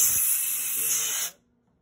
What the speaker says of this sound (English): So I'm gonna put the compressed air this way, so all the dust will opposite way